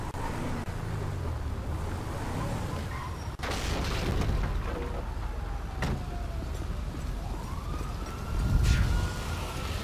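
A faint fire truck siren in GTA V wails in the distance, its pitch slowly sliding, under a steady rumble of traffic and engine noise with occasional thumps.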